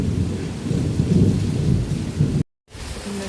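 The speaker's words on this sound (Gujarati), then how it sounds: "તમને સંભળાતો હશે કે કેવી ગાજવીજ થતી હતી." Heavy rain roars steadily through a thunderstorm, with deep rolling thunder rumbling close and loud, then breaking off into a brief silence before the downpour resumes.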